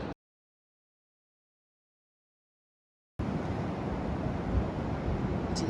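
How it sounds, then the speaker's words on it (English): Waves crash and wash on Downhill beach (Benone) in Northern Ireland, a steady close roar of surf with wind buffeting the microphone, starting abruptly after a silent gap. "That is my most favourite sound in the whole world. Crashing waves."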